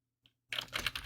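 A computer keyboard is typed on while writing in an MS Word document. One faint key tap comes first, then a quick, close run of clattering keystrokes.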